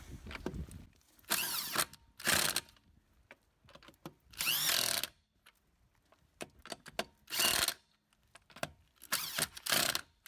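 An impact gun tightens CV axle bolts on a Dodge Grand Caravan in loud short bursts, about eight rattling zaps separated by quiet gaps and small clinks, close up with no talking.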